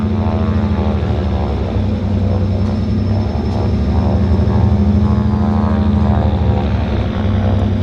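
A propeller floatplane engine drones loudly and continuously at a harbour airport in downtown Vancouver, with a heavy, throbbing low hum and slight swells in level as the throttles are worked.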